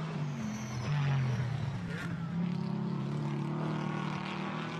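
Chevrolet Camaro and Porsche Cayman GT4 race cars dueling downhill for fifth place at Imola, their engines a loud, continuous drone whose pitch rises and falls steadily through the clip.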